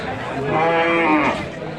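Cattle low in a busy livestock market at Gohorpur, Sylhet, a long drawn-out moo rising over murmuring voices and crowd chatter.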